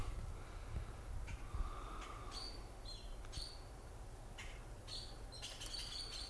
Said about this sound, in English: it sounds weird to me, the way they're squawking away